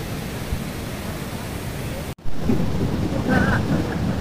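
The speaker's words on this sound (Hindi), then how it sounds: "बैकग्राउंड में बारिश।" Steady rain pours in the background outdoors, a dense, loud hiss that cuts out for a split second and then resumes with the same intensity.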